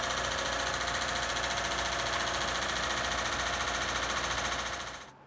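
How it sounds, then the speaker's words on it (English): A Lincoln Town Car engine runs with a dense, steady racket of mechanical noise that holds constant for about five seconds before cutting off abruptly. "my Lincoln Town Car I said was bulletproof is making a racket"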